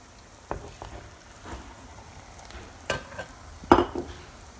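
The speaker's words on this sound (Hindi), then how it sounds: "इस स्टेज पर हम इसमें डाल लेंगे मिंस यानी कि कीमा जो हमारे पास है।" Minced meat (keema) added to onions frying in a karahi: a quiet low sizzle broken by a few sharp scraping and clattering stirs, close by, with no talking.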